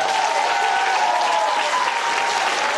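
A crowd at a stage show applauds loudly and evenly for a few seconds, a thick, unbroken sheet of clapping.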